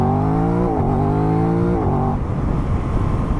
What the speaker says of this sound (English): A quick shifter from first to second is very good even as well if you're on the throttle.